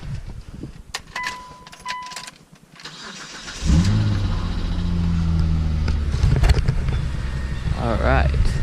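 A Mitsubishi Eclipse engine cranks and fires up after a transmission replacement, settling into a steady, loud idle close by. Clicks and short tones come first, then the engine hums on with a voice speaking over it.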